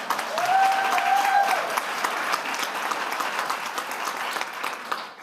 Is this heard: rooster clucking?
no